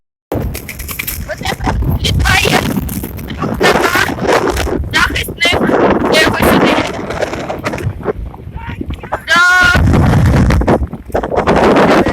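Steady wind buffeting a microphone on a mountain climb to Hymba and Velykyi Verkh, rushing and roaring throughout, with voices talking over it in a brief exchange.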